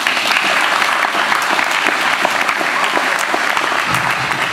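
A Tea Party audience in northeast Tarrant claps loudly for Michael Williams, dense continuous applause that lasts throughout and tapers slightly near the end.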